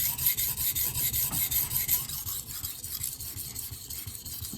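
VG-10 steel knife blade rubbed across a 400-grit super vitrified diamond sharpening stone, a close, gritty rasping in rhythmic back-and-forth strokes, with no voices.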